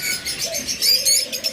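Pet birds kept for sale, a mutation breeding pair among them, chirp in quick high bursts with a soft lower coo, close by and without speech.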